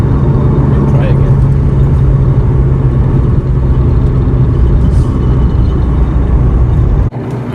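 A 2005 Subaru STi's engine drones loudly and steadily for the whole stretch as the car pulls hard through the gears, with a brief dip near the end, while people talk over it inside the cabin.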